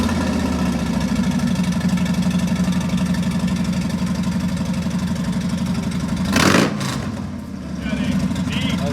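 A 2019 Harley-Davidson FXDR 114 with a Two Brothers exhaust idles with a deep, steady, loud rumble, then blips the throttle once in a sharp rev near the end before settling back to a lumpy idle.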